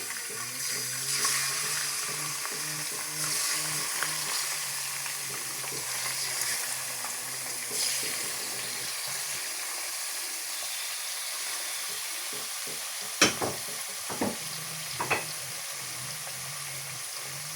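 Meat sizzles as it goes into a basmati rice pilaf. A steady, watery hiss of frying runs throughout, and a few sharp metallic clicks and clatters stand out near the end.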